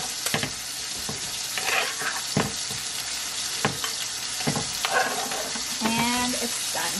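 Thin pork chops sizzling in a hot cast iron pan after the stove is turned off, a dense close hiss broken by sharp utensil clacks and pops, no talking.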